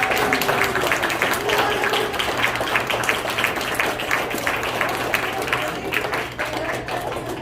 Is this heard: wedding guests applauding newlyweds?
yes